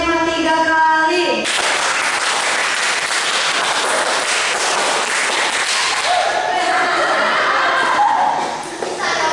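A group claps together in rhythmic bursts during a church youth service, the loud clapping filling the room after a brief voice at the start.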